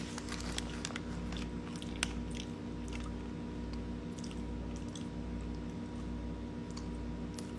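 Someone chews cranberries up close in soft, squishy, steady bites, with faint clicks over a constant low hum from a livestream and no talking.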